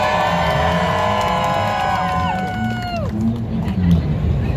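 A street show audience in New York cheers, whoops and shouts together on a count of three, a loud burst of crowd voices with rising and falling yells that settles into a steady busy hubbub.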